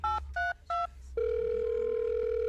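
A telephone gives three short, distinct dialing tones, then a steady dial tone that holds to the end. Both are clear, with a faint low hum underneath and no talking.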